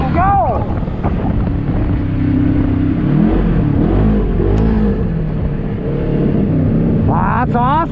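A Polaris RS1 side-by-side accelerates hard in 2x, its engine droning and climbing through revs with strong wind buffeting the microphone, and a voice exclaims near the end.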